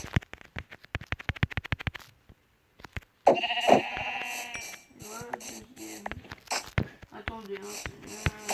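Sheep bleat in the video game Minecraft: a couple of loud, wavering bleats ring out after a stretch of sharp clicking, followed by softer game sounds and further short tonal bleats.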